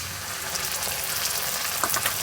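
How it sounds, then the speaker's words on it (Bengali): Sliced onion, lightly browned, sizzles in hot oil in a pan as ginger-garlic paste goes in, giving a steady dense hiss with a few sharper crackles and pops and no voices. "দেখো হালকা একটা ব্রাউন কালার চলে এসছে পেঁয়াজে এবার আদা রসুন বাটাটা এর মধ্যে দিয়ে দেবো"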